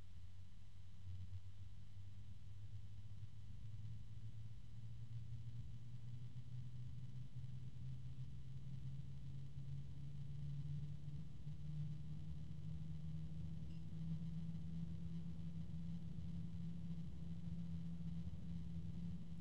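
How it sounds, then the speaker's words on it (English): A steady low hum from a Phanteks F140SK PC case fan drones throughout, smooth and continuous with a faint rising tone, close by and fairly quiet with no other sounds. "Now there's a low hum."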